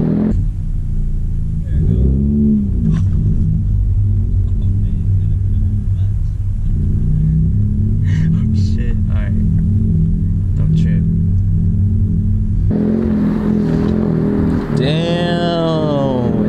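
A Honda Type R's engine rumbles and revs as a novice driver works the clutch, with the engine note dropping and rising through gear changes and a sharp rev climb near the end, while people talk inside the car.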